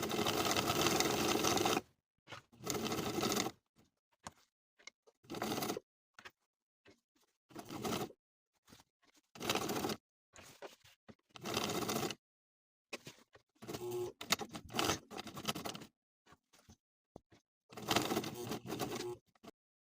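Sewing machine edge stitching a sleeve placket, working in many short stop-start bursts of fast whirring, close and with no voices.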